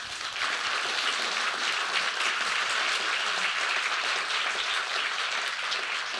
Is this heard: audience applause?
yes